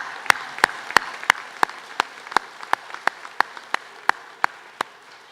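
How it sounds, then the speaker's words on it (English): Families are applauded at a Kaplan University graduation, with soft crowd clapping underneath a sharp, close clap that repeats in a steady rhythm about three times a second. "Applause for the families."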